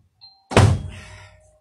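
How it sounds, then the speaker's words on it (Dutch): A door is pulled shut with one solid, close thunk after a faint click, followed by a short fading rumble in a quiet room. "ik zal de deur dicht doen"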